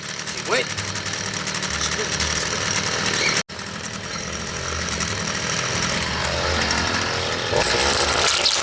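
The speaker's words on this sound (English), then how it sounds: "now time for the whip snip, if it'll go." A whipper snipper string trimmer runs steadily on a lawn, its buzzing motor loud and continuous apart from one brief cutout, with a voice speaking over it at times.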